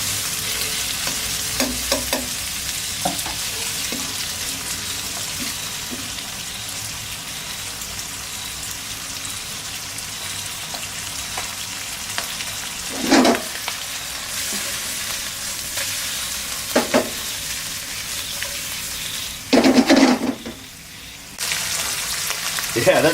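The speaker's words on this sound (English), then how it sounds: "I'm going to go ahead and throw that pork in there and get that pork nice and hot" Pork stir-frying in a hot pan for kwai teow pad kee mao gives a steady, close sizzle, broken by a few louder spatters and clatters of stirring near the end.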